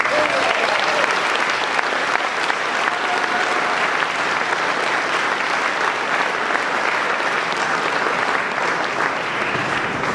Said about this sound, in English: can we have applause for those winners, please?